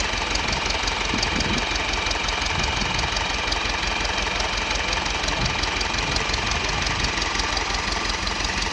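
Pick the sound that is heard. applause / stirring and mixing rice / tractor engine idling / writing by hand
tractor engine idling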